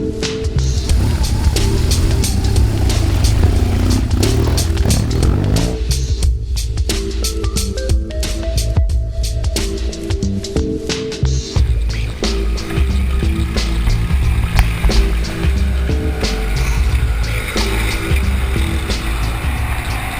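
BMW GS motorcycle riding on a dirt track near Perpignan, loud continuous engine drone with gear changes and pitch shifts, rattling and gravel noise throughout, no talk.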